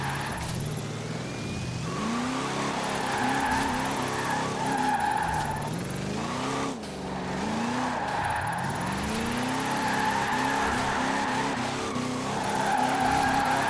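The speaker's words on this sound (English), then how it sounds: "With our big chunky tires, let's see how well it can do drifting." A car on big chunky tires drifts, engine revving up and down in repeated surges while tires squeal and skid, steady and close with no talking.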